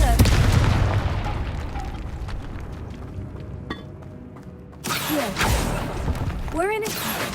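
A Confringo fire spell from Hogwarts Legacy bursts in a loud explosive boom, followed by a second blast amid game effects, with a voice talking over it.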